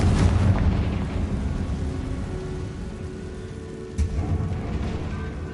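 The Confringo fire spell bursts with a deep, rumbling explosion in Hogwarts Legacy, a heavy roar that lingers and rolls on, with a second sharp blast near the end.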